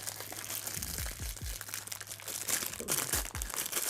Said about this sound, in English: go ahead and take it out of the package